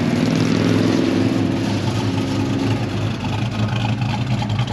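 Holden Premier engine running at a lumpy idle outdoors, a loud, steady rumbling throb close by with uneven pulsing, no talking heard.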